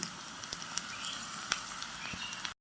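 Green banana chips fry in oil in a tiny toy cooking set, a soft, steady sizzle dotted with small pops and crackles, with no voices.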